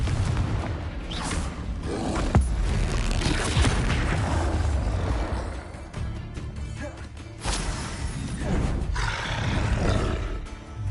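Confringo fire spell explosions in the Hogwarts Legacy video game, with loud roaring booms and crackling blasts that swell and fade repeatedly across the stretch over a dense rumbling game soundscape.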